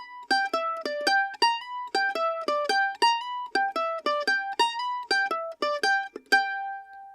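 A bluegrass lick picked on a mandolin, a quick run of bright, clean plucked notes in an even rhythm with slides and upstrokes, played solo and close, ending on a ringing note.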